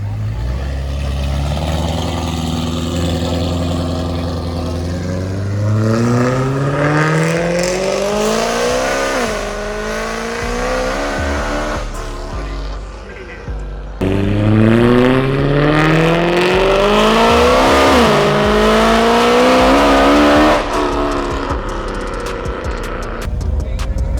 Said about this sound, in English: we got to hear your car on the way out